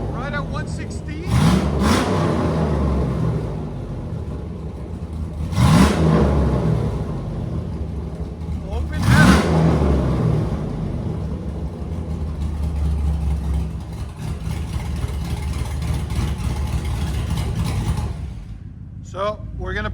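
A cammed 2006 Chevy Silverado step side with a 6.0L V8 and open manifolds idles with a loud, choppy lope and then gives three sharp, roaring revs, while someone talks over it.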